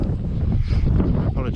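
Wind buffeting a microphone outdoors on a steep downhill trail ride, a steady loud low rumble with no letup for the whole stretch.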